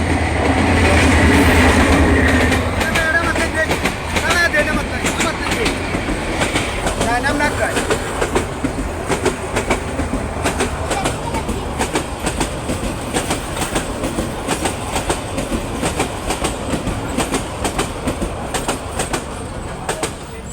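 A train rumbles past up close at a railway crossing, loud at first, its wheels beating a steady clickety-clack on the rails that carries on throughout.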